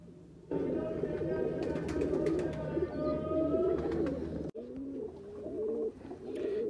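Ferozpuri and Teddy breeder pigeons coo repeatedly in soft, rolling calls close by, with a brief break before the cooing resumes.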